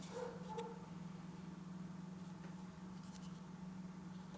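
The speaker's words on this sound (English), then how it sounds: "Got dogs barking next door again." Dogs next door bark faintly in the distance, a couple of short yips early on and sparse ones later, over a steady low electrical hum.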